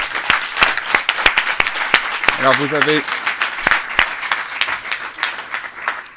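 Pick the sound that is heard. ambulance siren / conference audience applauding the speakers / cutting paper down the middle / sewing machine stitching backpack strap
conference audience applauding the speakers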